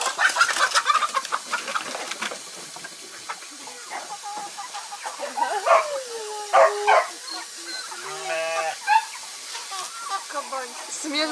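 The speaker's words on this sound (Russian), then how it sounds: "Слышу, куры орут." Chickens cluck and squawk loudly in a noisy, agitated flurry, with some sharp calls and a dog-like bark among them; no talking.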